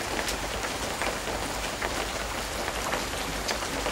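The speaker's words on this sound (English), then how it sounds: "laying here during a light afternoon rain" Light afternoon rain falls in the jungle near a hammock at a retreat, a steady close patter of drops hitting surfaces throughout, with no voices.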